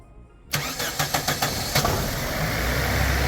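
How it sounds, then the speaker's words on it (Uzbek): A car engine cranks with a rapid series of starter pulses, catches and settles into a steady idle, heard up close with no talking, just after its fuel injectors were cleaned. "Endi yurgizamiz mashinani."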